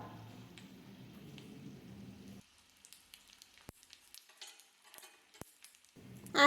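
Kalonji and jeera seeds sizzle in hot oil with ground nuts for a tempering, giving a soft, steady crackle that drops away partway through, then faint scattered pops and ticks before the frying hiss swells back near the end.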